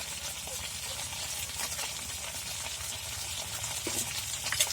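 Cumin seeds, mustard and turmeric fry in hot mustard oil in a pan for an egg curry, a steady, close crackling sizzle with light stirring scrapes.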